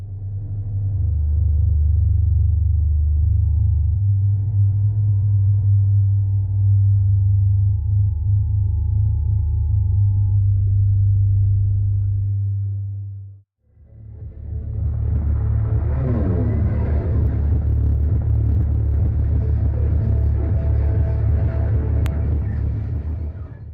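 A home theater subwoofer with an Ultimax 18-inch driver pumps out loud, sustained deep bass that cuts out briefly midway, then returns with a rumbling low tone and a faint higher buzz.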